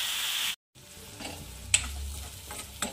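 Spring onion greens sizzle in hot oil in a pan, a steady close frying hiss that cuts out for a moment, then resumes with soft stirring scrapes and a couple of sharp clinks.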